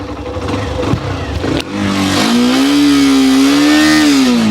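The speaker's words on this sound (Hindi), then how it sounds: "तो यहाँ पर एक्सट्रीम हम स्टार्ट कर लेते हैं।" Hero Xtreme 125R motorcycle engine starts after a short crank, then idles steadily and loudly close by with a stable droning tone.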